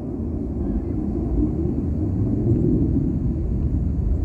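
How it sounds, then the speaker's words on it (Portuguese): A steady, deep low-frequency roar of aircraft engines passing overhead, continuous and fairly loud throughout with no voices. "escutem esses aviões, ó."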